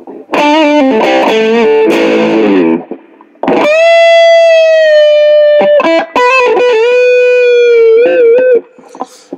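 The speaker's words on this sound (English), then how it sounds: "strat distortion." Fender Stratocaster electric guitar with heavy distortion playing a few chord stabs, then sustained bent notes and short phrases, loud and close.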